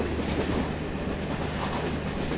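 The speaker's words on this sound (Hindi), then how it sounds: "गाइस सामने एक स्टेशन आ रहा है जो कि मुझे लग रहा है सराय स्टेशन है एंड इस स्टेशन को हम लोग क्रॉस करेंगे" A Rajdhani express passenger train runs through Saray station at 109 km/h, with a loud, steady rumble and rhythmic rail clatter heard from on board.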